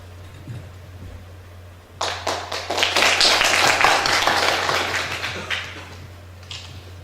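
An audience at the award ceremony of the 2nd Seolbong national poetry recitation contest breaks into applause after a quiet stretch with a low electrical hum; lively clapping holds for several seconds, then thins and tapers off.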